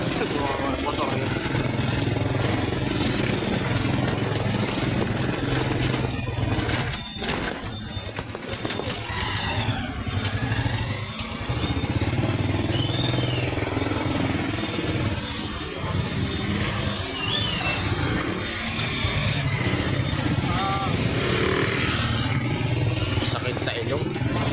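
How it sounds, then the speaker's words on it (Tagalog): A motorcycle engine idles and rumbles steadily throughout, with people talking over it. "Motor yun."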